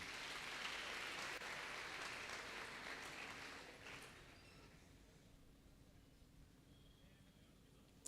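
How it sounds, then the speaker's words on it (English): Audience applause at a youth empowerment event: a broad wash of crowd clapping that holds for several seconds, then fades away into quiet room noise. "They deserve another round of applause, man."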